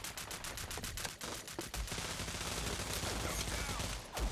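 Rapid automatic gunfire from the video game Rogue Company, dense and continuous bursts of shots filling the clip at a steady loud level.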